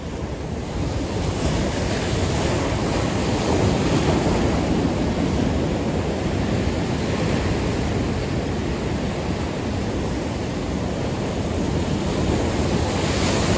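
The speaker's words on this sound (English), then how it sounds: "These waves are stupidly big" Big ocean waves crash and roar steadily on a shore while wind buffets the microphone, a loud, dense, unbroken wash of surf noise with no voices.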